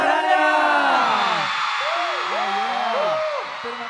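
A crowd of K-pop fans at a stage event screams and whoops on cue, many overlapping rising and falling voices sustained loudly for several seconds before easing slightly.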